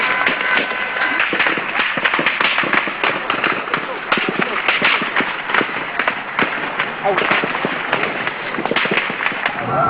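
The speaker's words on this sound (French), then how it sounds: "L'armée réplique à l'arme automatique." Army soldiers fire automatic weapons at protesters in Benghazi, Libya, during the 2011 uprising: dense, rapid crackling gunfire runs continuously throughout, loud and unbroken, with a voice talking over it.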